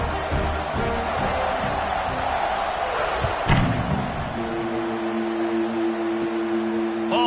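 A football stadium crowd roars steadily at kickoff, a broad wash of cheering with a thud partway through, then sustained horn-like tones near the end.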